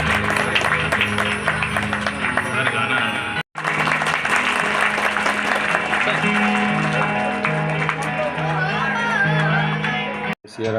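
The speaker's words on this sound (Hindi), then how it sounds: "आप लोग तालियां जरूर" A crowd at a Rudra Mahayagya religious ceremony applauds, with dense clapping mixed with whoops and shouting voices. It is loud and sustained, with two brief dropouts, and other sounds run underneath the clapping.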